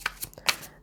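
Tarot cards are shuffled in a quick, soft flurry, a few papery riffles and taps lasting under a second, close and faint.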